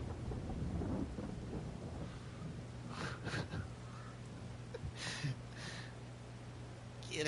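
Rain and rolling thunder in Farming Simulator 22 on PS5: a soft, steady rain hiss with a low drone, broken by a few distant thunder rumbles and crackles, fairly faint overall.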